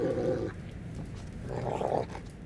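A dog lets out low, rumbling growls in two drawn-out bursts in the video game Thief, steady and menacing against a quiet background.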